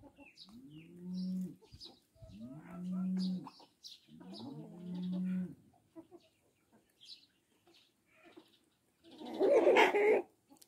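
Wyandotte chickens brought from a poultry show in Poland give three drawn-out, rising-and-falling calls in a row, followed by a short, harsh burst of squawking near the end.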